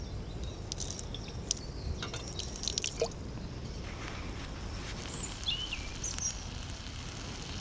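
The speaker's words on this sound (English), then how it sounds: "Wash off my tongs." Water splashes and drips while cooking tongs are rinsed off outdoors, a steady low wash with scattered small clinks and trickles, fairly faint and continuous, with a few bird chirps in the background.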